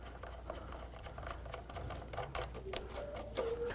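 Four 8mm bolts being threaded into the intake manifold of a 2007-2014 Cadillac Escalade, probably with a ratchet, giving quiet rapid clicking that grows denser toward the end, close-up with no talking.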